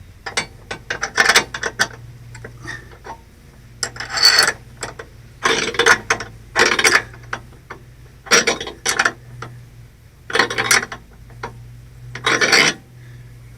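A 9/16 wrench tightens a bolt on the bed end of a 1978 Apache Ramada camper, repeated close raspy ratcheting strokes in short bursts with pauses between, no talking.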